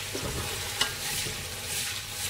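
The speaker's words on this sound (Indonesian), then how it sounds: "So, kita akan goreng ni sampai dia garing also lah," Ingredients for rendang frying and being stirred in a pot on a home stove, with a steady close sizzle and a few spoon scrapes against the metal, and no voices.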